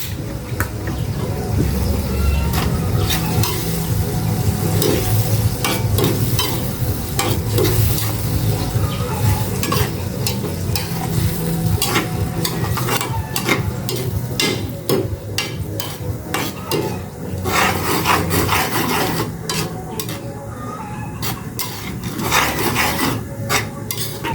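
Fermented shrimp paste with sugar and vinegar is stirred and sautéed in a pan in a rural home kitchen, a continuous sizzle under repeated scraping and rubbing of a utensil against the pan, with clattering metal knocks.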